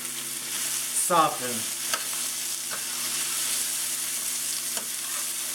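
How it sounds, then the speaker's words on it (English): Peppers and onions frying in a skillet, a steady soft sizzle running throughout, with a brief burst of voice and a few light stirring clinks over it. "Our first step though is going to be to just go ahead and cook these peppers and onions down"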